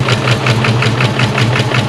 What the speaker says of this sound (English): how much better this other engine runs